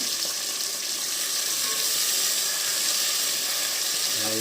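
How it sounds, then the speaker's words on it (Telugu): Onions, tomatoes, green chillies and cloves frying in a pan, a steady close sizzle with bubbling crackle that runs without pause, no talk over it. "అవి బాగా ఫ్రై అయినాక"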